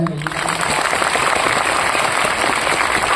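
An audience at a Mappila song performance bursts into dense, steady clapping that carries on loud and continuous after a brief voice at the very start.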